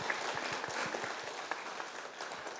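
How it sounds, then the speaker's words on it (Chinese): An audience claps in applause at a large gathering celebrating a master's 82nd birthday, a soft, fairly distant patter of many hands lasting a few seconds. "我们给师父拍手"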